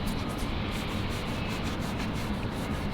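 Bar Keepers Friend cleanser being rubbed onto a wet, rusty surface, a steady close scrubbing and rubbing sound with a soft gritty texture, continuous and fairly quiet.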